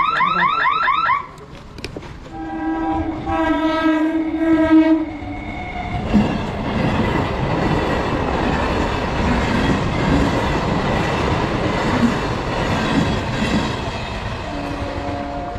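A train rumbles past close by at a level crossing, a loud continuous roar of wheels on rails with a horn-like tone near the start, no talking.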